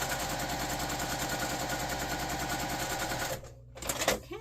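Sewing machine stitching quilting fabric for a diamond table runner, a close, rapid rhythmic mechanical chatter that runs steadily for over three seconds, then stops, leaving brief handling noises.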